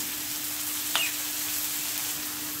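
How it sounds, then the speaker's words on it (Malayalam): Tomatoes frying in oil in a pan while being stirred, a faint steady sizzle with one brief scrape of the spoon near the start and a low constant hum underneath, no talking. "നമ്മൾ തക്കാളിയും കൂടെ കൂട്ടി അവനെ ഒന്ന് ഇളക്കുന്നു."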